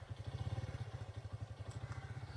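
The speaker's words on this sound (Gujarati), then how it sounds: "અરે બાઇક ચાલુ થઈ ગઈ." A motorcycle engine runs just after starting, a low pulsing idle with an even throbbing rhythm, fairly quiet and close with no talk over it.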